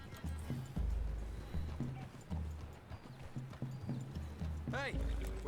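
Horses walking with a steady clip-clop of hooves in Red Dead Redemption 2, close and clear, with a horse whinnying near the end and voices speaking over the hoofbeats.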